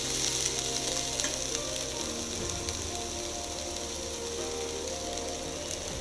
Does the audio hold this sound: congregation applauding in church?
no